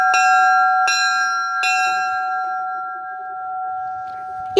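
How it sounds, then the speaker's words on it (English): Clanging bell of the St. Louis Water Division number 10 locomotive at a transportation museum, three loud ringing strikes about a second apart, each leaving a long sustained hum that slowly fades. "I hear St. Louis Water Division number 10's whistle. And here's the bell."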